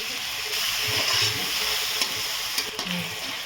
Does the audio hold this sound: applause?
no